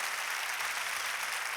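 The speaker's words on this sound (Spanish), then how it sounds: "A darle un fuerte aplauso al poder de Cristo Jesús" Church congregation applauds during a sermon, a short, even wash of many hands clapping at moderate distance with no voices over it.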